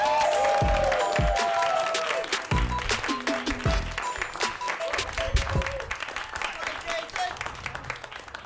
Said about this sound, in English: A big round of applause for my man,